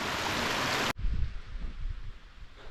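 Rushing water from a mountain waterfall on a busy British mountain, a loud broadband roar that cuts off abruptly after a second, followed by lower, rumbling flow and wind buffeting close to the recorder.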